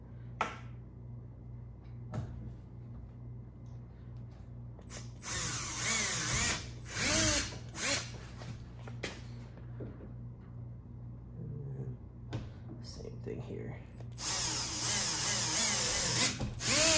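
A power drill with a 7/32 bit bores into a Hobie Compass kayak during rail installation, several short bursts of whining, rising drilling close up, separated by quiet pauses, with a longer run near the end.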